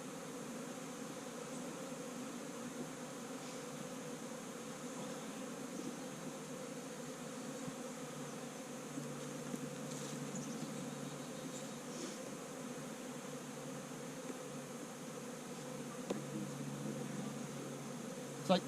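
A continuous low drone of many honey bees buzzing, steady and fairly faint throughout, with no voices.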